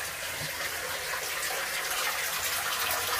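Water runs steadily from a tap into a bath, a continuous close hiss and splash that holds at an even level throughout.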